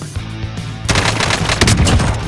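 An M4 rifle opens up in Warzone with a rapid, loud automatic burst of close shots, following a quieter stretch of low game ambience.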